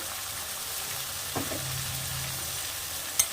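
Mutton frying with ginger-garlic paste, a quiet sizzle under a brief stir and a short low bubbling hum, ending in a small clink, heard close and without talk.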